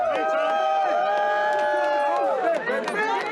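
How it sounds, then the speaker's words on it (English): A group of supporters greets a man arriving in a prison van with loud, close cheering and sustained voices, a dense crowd sound that stays strong throughout. "They were cheering."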